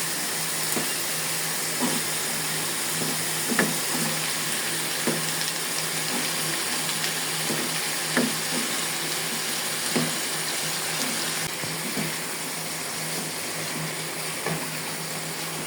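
Vegetables sautéing in spiced oil for a vegetable khichdi without dal, a steady soft sizzle with faint scattered clicks of stirring, no talking.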